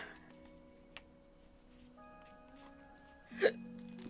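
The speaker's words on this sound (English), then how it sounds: "Hiccups." A single short hiccup near the end of an otherwise quiet stretch, with faint ticking and a low background hum.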